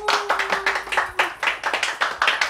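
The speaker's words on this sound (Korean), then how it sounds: "박수!" An audience at a literature lecture gathering claps hands together in a brisk, uneven flurry of close, crisp claps lasting a couple of seconds.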